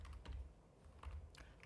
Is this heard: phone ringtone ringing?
no